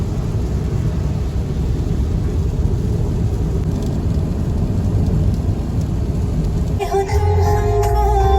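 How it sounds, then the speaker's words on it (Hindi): Heavy rain pours steadily during a road trip, a dense continuous hiss that stays loud throughout, with a brief clatter and tonal sounds near the end. "it's raining cats and dogs"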